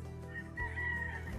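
Gamefowl brood stag rooster crowing once in a brief, somewhat distant call that rises and holds, over steady farmyard background noise, with no talk.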